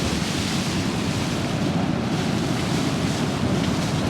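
Storm wind roaring through trees near a tent during a camping trip in Storm Otto, a loud, dense, continuous rush with no breaks and no voices.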